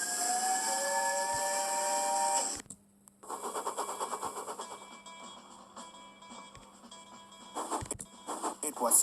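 A long, loud steam locomotive whistle blast with steady tonal harmonics sounds for about two seconds, then gives way to busy clattering noise and scattered voices.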